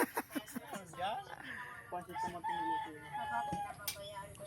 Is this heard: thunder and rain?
no